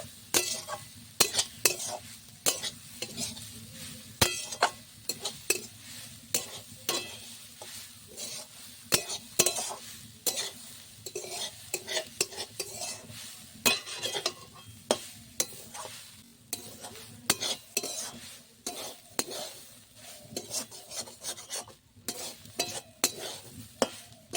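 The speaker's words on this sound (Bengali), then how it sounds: "প্রথমে নারকেলটাকে একটু ভেজে নিতে হবে" Grated coconut fries in a pan for a Bengali steamed pitha filling, with a soft sizzle under continuous close scraping as a spoon stirs in quick, uneven strokes against the metal.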